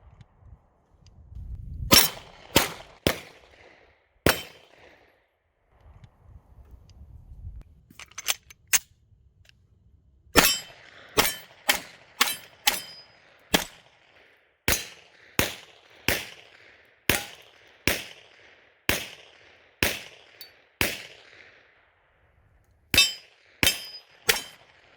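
Cyelee Wolf X Pro foam blaster firing at targets, sharp snapping shots in an uneven series, a few spaced early then a steady run of regular pops after a brief low rumble, close and loud with no talk.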